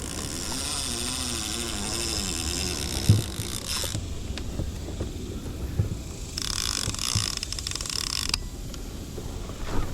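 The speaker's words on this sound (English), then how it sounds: "I get so excited I forget to turn my clicker off" A fishing reel's clicker ratchets as line pulls out while fishing a river spillway after heavy spring rain, a close rapid creaking buzz in bursts under flowing water noise.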